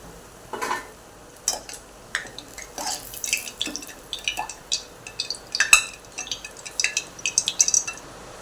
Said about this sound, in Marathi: छान असं याला फ्राय करून घेऊया तांबूस रंग येईस तर हे पहा हे तांबूस रंगाचे होईस तर यांना चांगले तळून घ्यायचे